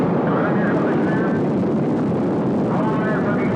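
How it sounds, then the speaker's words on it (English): Space Shuttle Columbia lifts off with the Microgravity Science Laboratory, a broad, continuous roaring rumble that stays loud and steady throughout, heard at a distance with dense crackling texture. "Liftoff of Columbia with the Microgravity Science Laboratory"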